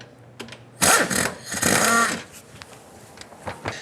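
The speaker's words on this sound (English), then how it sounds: "We're gonna use our impact gun to go ahead and remove the bolt." An impact gun rattles off the harmonic balancer bolt on a 1997–2006 Jeep Wrangler in two loud, close, hammering bursts lasting about a second each, followed by a low background hum and faint clicks.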